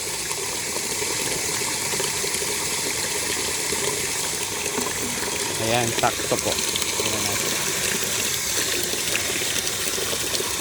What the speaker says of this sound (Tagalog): tumutulo pa yung gripo para mahalo na yung solution